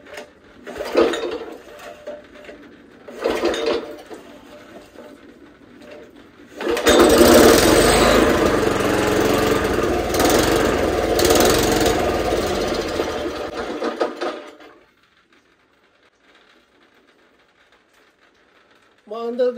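A small gasoline engine on a scrapyard-bought wood cutting machine sputters in short bursts, then catches and runs loudly on choke for several seconds before cutting out into silence.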